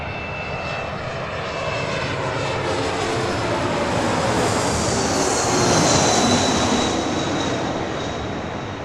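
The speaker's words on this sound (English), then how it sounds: "This Cessna Citation Latitude is coming in from Rifle, Garfield County there in Colorado." A Cessna Citation Latitude business jet arrives at LAX, its engines a loud, broad roar that swells gradually as it passes close by, with a high whine riding on top and no voices.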